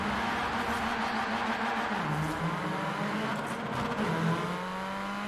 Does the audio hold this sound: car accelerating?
yes